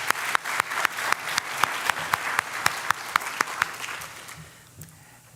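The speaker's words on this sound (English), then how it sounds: "Please join me in giving a round of applause for all the presenters and the recipients tonight" An audience at a senior community awards night claps for the presenters and award recipients. The applause is steady and even, with sharp individual claps standing out near the mic, and it fades out over about five seconds.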